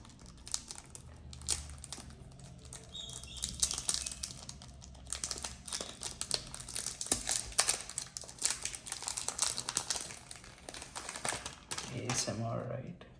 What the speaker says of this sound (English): As I unbox the fragrance